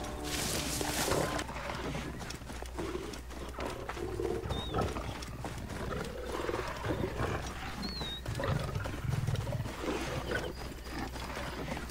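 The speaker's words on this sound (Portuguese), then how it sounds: "Ouça o barulho desses leões rugindo aí" Lions roar in the wild, deep rumbling calls rising and falling at a moderate distance over a background of water and outdoor sounds, fairly quiet overall.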